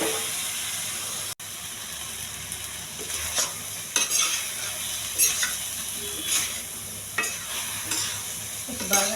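Boiled eggplant curry with chili powder and turmeric being stirred in a pan: a continuous sizzle with a scrape from the spoon about once a second, close and fairly loud, with no talk.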